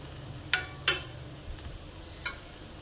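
Spoon stirring a red amaranth leaf stir-fry with crushed peanuts in a pan, three or four distinct scraping clinks with a soft sizzle underneath, fairly quiet and close.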